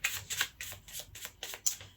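A tarot card deck being shuffled by hand, giving a run of soft, rapid riffling bursts in a steady rhythm, close up and alone without talk.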